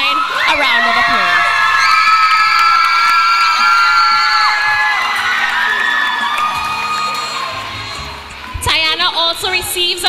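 Crowd at a secondary school graduation ceremony cheers, whoops and shouts continuously for a graduating student, a loud dense roar with children's yells, dipping briefly before a fresh burst of cheering near the end.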